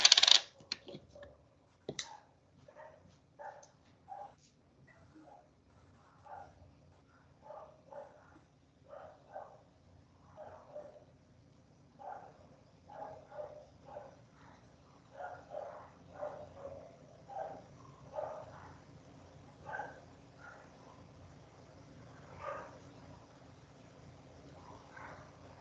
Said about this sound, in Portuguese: Eita, cachorrada.